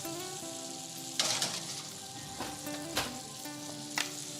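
Bacon sizzles steadily in a pan, a constant close crackle with a few brief louder scraping bursts as it is moved, no voices.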